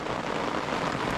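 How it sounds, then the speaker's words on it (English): Steady, dense rain falls throughout, a loud continuous hiss and patter on surfaces outdoors in Miyagi Prefecture, Japan, with no voices. "It's hard to hear over the rain."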